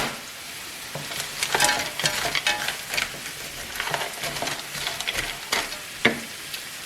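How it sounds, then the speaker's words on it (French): Bell peppers sizzle and fry in a pan while being stirred, with repeated scraping strokes and clinks over a steady hiss and no voices. "j'ajoute ensuite les poivrons"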